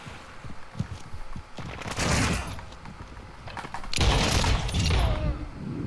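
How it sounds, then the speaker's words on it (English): Rapid gunfire bursts and impacts crackle in Call of Duty MWII, loud shots and clattering volleys clustered into two dense stretches with a faint voice underneath. "Ah, those five shots, man. You gotta make them count."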